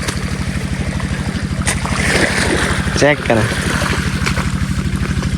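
Tubewell irrigation water runs through a field channel on a farm with mustard and chickpea crops, a close, churning rush under a steady rhythmic pump thud, with someone speaking briefly partway through.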